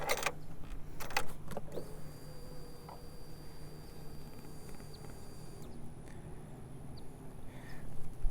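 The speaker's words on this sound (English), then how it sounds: "But I'll go ahead and turn on the ignition. Here's the startup sequence." Ignition switched on for a 2012 Triumph Tiger 800 motorcycle: a few sharp electronic clicks and chirps at the start, then a steady low hum and high whine from the bike's systems, with no engine running.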